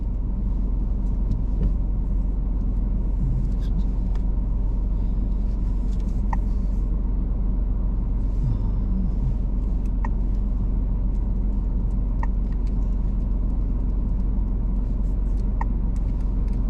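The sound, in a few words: car driving on road during driving test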